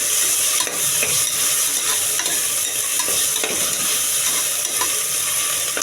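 Tomatoes sauté with ginger garlic paste in a pan, giving a steady close sizzle with scraping stirring strokes throughout, no voices.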